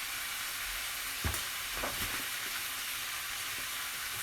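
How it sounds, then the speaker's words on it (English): Coq au vin being stirred in a hot pan, a constant bright sizzle with a few soft scrapes and clunks of the spoon against the pan, close and with no talking. "Just giving that all a good stir."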